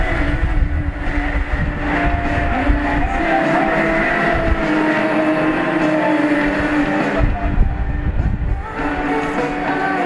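Race cars lapping Twin Ring Motegi during a 12-lap Panther class final, engines roaring continuously and loudly as the field passes, with an announcer's voice faintly underneath.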